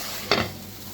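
Beef for a spiced curry sizzles in a pan with a single stirring scrape near the start, a brief burst of frying hiss that fades back into a steady low sizzle, no talk.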